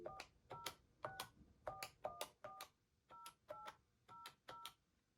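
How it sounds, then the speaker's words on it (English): Desk phone keypad sending a series of about eleven short dialing tones in an uneven rhythm, each beep clear and close with brief gaps between, on a Cytracom D2 desk phone during a conference call setup. "We're going to dial the number that we want to also bring into the conference."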